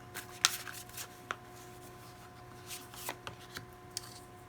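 Tarot cards shuffled and drawn during a reading, giving quiet soft riffling and a few sharp card snaps and slaps spread over a few seconds against a low steady background hum.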